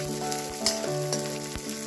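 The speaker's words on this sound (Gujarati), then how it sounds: "આ રીતે બધો ગુંદર આપણે તળી લેવાનો છે" Edible gum (gundar) fries in ghee with a steady, soft sizzle. A few scraping stirs and light clinks of a utensil on the pan sound nearby, and no one speaks.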